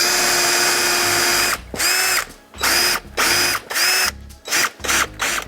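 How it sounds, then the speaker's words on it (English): A power drill fitted with a brad point bit bores into wood for a table leg insert, whining loudly in repeated bursts that stop and restart several times close up, with no talking over it. "I do use a brad point drill bit, so it has that center point right on there"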